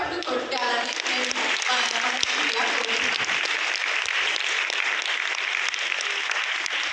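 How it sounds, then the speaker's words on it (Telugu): Sustained applause from an audience at a Women's Day event, a dense, steady wash of clapping filling the whole stretch with no clear pauses. "దయచేసి వీరందరికీ చప్పట్లు కొట్టాలని నేను"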